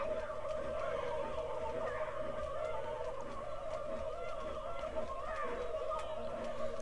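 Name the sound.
turkeys gobbling in South Park 64 video game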